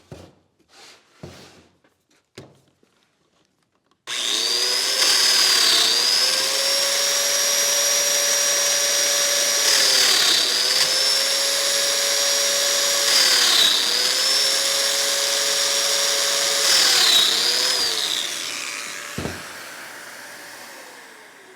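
A Festool DF 500 Q domino joiner runs steadily in a woodworking shop, a loud continuous whine with a motor hum that dips briefly as it plunges into wood, with several short cutting passes before it winds down.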